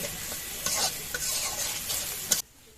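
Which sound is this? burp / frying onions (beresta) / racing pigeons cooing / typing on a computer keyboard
frying onions (beresta)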